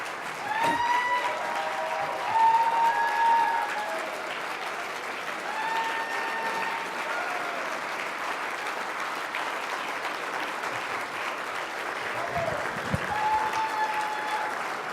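A dinner audience gives prolonged, even applause for an award honoree, the clapping steady and full throughout, with faint whistles or tonal sounds drifting over it.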